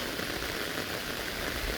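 Rain falls steadily outdoors, a dense even hiss of drops hitting surfaces, loud and unbroken, with no voices.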